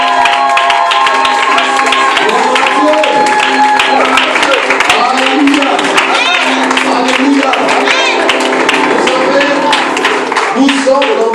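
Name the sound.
congregation applauding to acclaim the Lord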